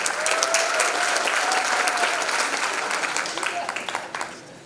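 A bigger burst of audience applause at the KZN Youth Business Awards ceremony, full and sustained at first, then thinning into scattered individual claps toward the end, with a faint voice briefly audible beneath.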